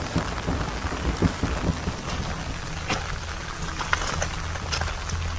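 Steady rain falls in the Julian Alps of Slovenia, a dense continuous hiss of drops with a few sharper patters near at hand, with no voices heard.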